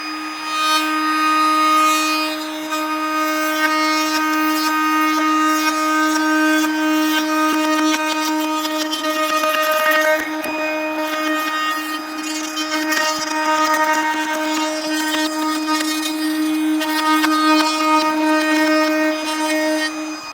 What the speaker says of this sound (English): you're gonna come back here with your router with a 1/4 inch round over bit